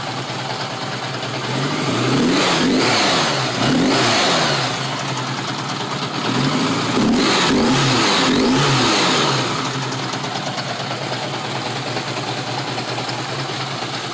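A Honda GL1100 motorcycle engine with about 300,000 miles on it, before carburetor synchronization, idles steadily and loudly up close, with two sets of rising revs that swell and fall back to idle.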